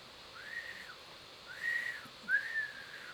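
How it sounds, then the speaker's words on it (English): A high toy whistle sounds three times in short rising-falling tones, each about half a second long, with a quiet pause between. "he met a larger boy who was blowing a whistle"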